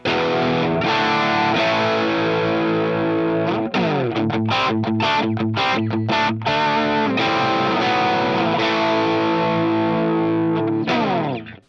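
Electric guitar through a Digitech Bad Monkey overdrive pedal with gain at about halfway, loud and slightly gritty, playing sustained chords with a quicker choppy passage midway, ending as the notes ring out.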